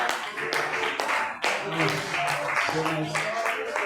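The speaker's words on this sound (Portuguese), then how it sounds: "as palmas para o Senhor Jesus" A church congregation claps for Jesus, with rhythmic, fairly loud palm strikes in a regular beat alongside voices and what sounds like music, all in a reverberant hall.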